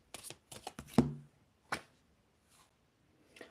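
Tarot cards being shuffled and tapped, a quick cluster of crisp slaps and riffles followed by a couple of isolated flicks, close and quiet with no voices.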